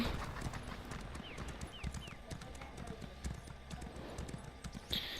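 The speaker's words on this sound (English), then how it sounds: "Parkour. Horse parkour." Horse hooves clip-clop at a steady galloping rhythm in the Elder Scrolls Online video game, moderately close, under faint game ambience.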